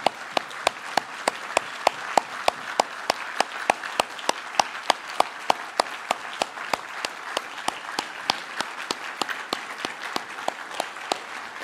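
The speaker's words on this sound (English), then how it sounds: "can we just give them a big round of applause?" A church congregation claps together in sustained, steady applause, the sharp claps close and continuous for about twelve seconds, with no voices over it.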